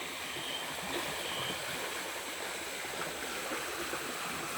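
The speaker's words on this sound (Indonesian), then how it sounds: "Bisa kalian lihat airnya berbatuan, airnya tidak begitu dalam." A shallow river flows over rocks, giving a steady, even wash of rushing and gurgling water that fills the whole clip with no voices.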